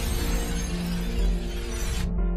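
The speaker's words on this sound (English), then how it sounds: "the screen shatters and you can hear the sound of glass being shattered, and then reversed" Glass shatters and then plays in reverse in the video game In Between, a dense bright crash with a tonal hum underneath, ending in an abrupt cutoff.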